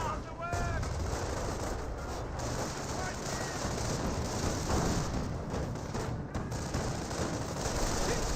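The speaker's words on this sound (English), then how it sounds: "Wehrmacht snipers are firing away." Wehrmacht snipers and rifle squads exchange gunfire in Company of Heroes, with sharp shots and bursts cracking repeatedly over a dense, continuous battle din, some distant, some close.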